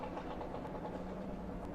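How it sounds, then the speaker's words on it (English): Race car engines on the starting grid of a Pirelli World Challenge GTS round at Road America, a steady, even droning hum of revving engines heard from a distance, continuous and moderately loud. "There they are. Revs are up."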